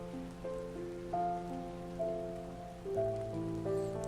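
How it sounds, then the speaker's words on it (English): Steady, soft rain falls in a video game, a constant patter that plays beneath a slow, gentle musical melody, with no voices. "It's raining now. And it keeps raining."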